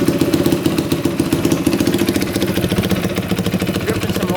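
A worn $1000 dirt bike engine idles steadily up close, its low, slightly uneven chugging pulsing without pause and with no voices over it.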